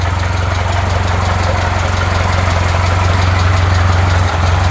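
A restored 1940 Ford 9N tractor engine idling, gravity-fed from a portable gas tank, a loud, close, steady low throb with an even rhythmic beat and no talk.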